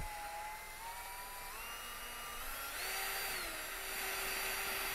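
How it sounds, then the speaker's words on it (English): A cordless drill fitted with a mixing whisk whirs steadily at a low, even speed while blending a powder mix, its motor pitch rising slightly partway through, with no talking. "You pop this into the end of your cordless drill, you put it on a slow setting"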